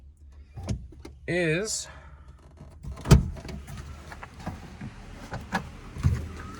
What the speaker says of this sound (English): that little sound that you hear whenever I press the brake